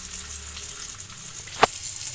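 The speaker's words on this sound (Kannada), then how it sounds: "ಇಲ್ಲಿ ನಾನು ಒಗ್ಗರಣೆ ಕೊಡ್ತಾ ಇದ್ದೀನಿ, ಈರುಳ್ಳಿ ಮತ್ತು ಮೆಣಸಿನ್ಕಾಯಿ ಮತ್ತು ಉಪ್ಪು ಖಾರ ಅರಿಶಿನ ಹಾಕಿ" Onion and green chilies temper in hot oil, producing a soft, continuous frying sizzle with one sharp clink of a utensil near the end.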